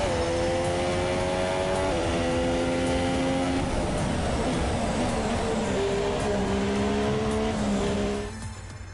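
An F2 race car in a sim race at the Australian Grand Prix screams past with a loud, high-revving engine whine that shifts pitch through gear changes, holding steady before dropping off abruptly at the end.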